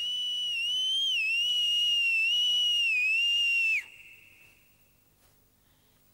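A loud, sustained whistle with a slightly wavering pitch holds for several seconds, then cuts off into near silence.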